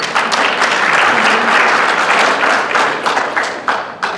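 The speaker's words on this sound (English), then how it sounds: "Round of applause." Audience at a real estate investors' association meeting giving a round of applause, loud and close, with crisp individual claps standing out as the clapping thins toward the end.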